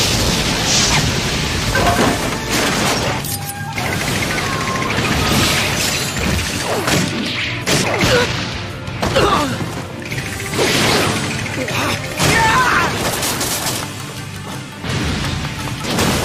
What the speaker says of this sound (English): To honor the rules, I'll destroy these puppets! No, Sasuke! Fire style! Fireball Jutsu